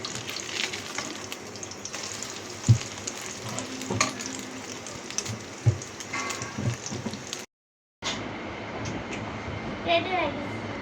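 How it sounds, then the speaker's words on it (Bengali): An egg fries in a worn, rough-surfaced kadai, hissing and sizzling steadily with occasional scraping clicks, while voices are heard in the background. "ওর জন্য এখানে ডিম ভাজি করে নিচ্ছি"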